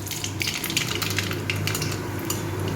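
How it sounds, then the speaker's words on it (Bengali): Nigella seeds (kalo jeera) crackle as they fry in well-heated oil while cooking shola kochu, a steady close sizzle with faint scattered pops and a low hum underneath, no voices. "এবার আমি এই তেলটার মধ্যে একটু কালো জিরা দিলাম।"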